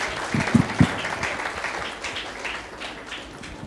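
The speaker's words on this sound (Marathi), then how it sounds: "मग पुन्हा एकदा त्यांच्यासाठी जोरदार टाळ्या तर झाल्याच पाहिजे." Applause from an audience at a school prize distribution for blind students, a few sharp nearby claps at first, then steadier clapping that gradually fades, moderately quiet.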